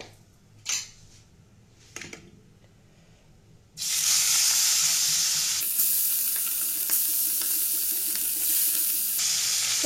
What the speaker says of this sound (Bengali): এবার তেলের মধ্যে একটুখানি হলুদ দিয়ে মাছগুলো ভেজে নেব।